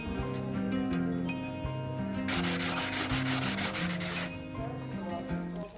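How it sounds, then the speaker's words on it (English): Foam fuselage of a 2500 mm MQ-9 Reaper RC plane being wet-sanded by hand with sandpaper, a steady rasping rub that swells louder mid-way, heard under continuous background music. "Wet sand all sharp edges and seams. Use rough grit sandcloth and then smooth it out with medium grit 240 sandpaper."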